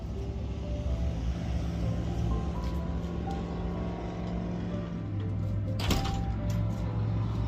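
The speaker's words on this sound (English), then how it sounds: "I got a lot of traffic where I'm living at, and they doing a lot of building, so a lot of traffic" Steady low rumble of road traffic outside near a construction area, with engines droning continuously and one brief sharper mechanical clatter near the end.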